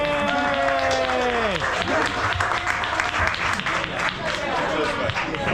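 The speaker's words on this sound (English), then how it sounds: "round of applause for all of them now, though" Audience applause after a Bigfoot expedition talk, a dense crowd clapping that swells in after a voice trails off and continues steadily and close, with a little cheering under it.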